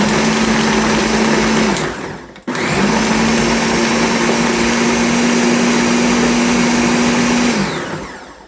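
A Ninja BN751 Professional Plus DUO blender runs loud and close with a high, steady whirring roar, stops briefly, then restarts and runs steadily before winding down.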